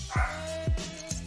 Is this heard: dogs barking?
yes